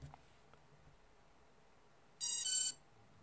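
Drone electronic speed controller on a ZMR250 quadcopter with a CC3D flight controller, beeping during calibration after the battery is connected: a loud burst of rapid high electronic beeps lasting about half a second after a quiet stretch.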